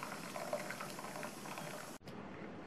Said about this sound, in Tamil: 4 நிமிஷமாக நல்லா கொதிச்சிருச்சு.